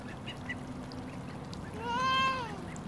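Ducklings give a short rising run of peeps near the two-second mark, moderately close and clear over steady outdoor background noise at a summer slip-and-slide.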